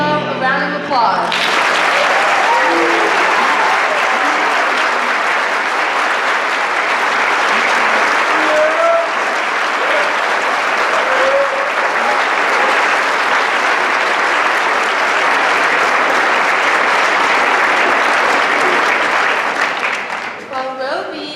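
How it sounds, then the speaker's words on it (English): Sustained, loud audience applause fills an indoor honor society ceremony, steady clapping from a large crowd lasting about twenty seconds before tapering off. "Let's give our first row a round of applause."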